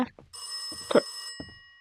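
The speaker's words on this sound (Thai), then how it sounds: "ใครมันจะโทรมาในเวลานี้อีกวะ" A telephone bell rings in one long, bright, steady burst late at night inside a house, with a few faint knocks and brief voice-like sounds before and after it.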